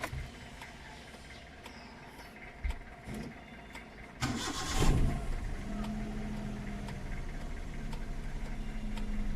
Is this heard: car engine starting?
yes